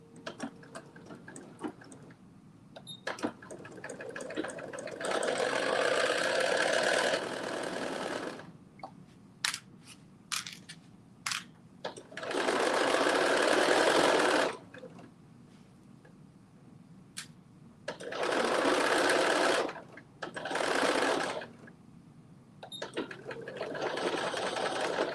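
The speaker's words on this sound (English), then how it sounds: "One arm down. Let me stitch the other one." A sewing machine stitches the arm seam of a garment in four long bursts of steady whirring, close and loud, with quiet handling clicks and small ticks between runs.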